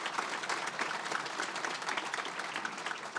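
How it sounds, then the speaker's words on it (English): A crowd at a community health event claps steadily in an even, dense burst of applause, moderately distant and with no talk over it. "please help me give them another round of applause"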